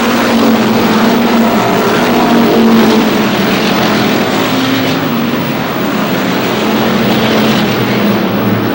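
Race cars roar around Star Speedway in New Hampshire, a loud continuous engine drone with shifting pitch as the pack passes close, sustained throughout with no talk over it.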